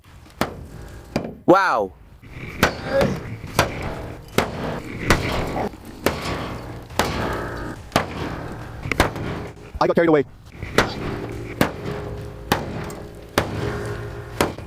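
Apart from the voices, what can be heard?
axe and hammer striking a car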